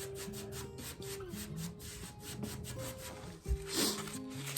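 A brush working off-white mineral paint roughly in all directions over a tin pitcher, giving soft, irregular scratchy rubbing strokes, close and quiet, with a faint steady tonal hum in the background and no talking.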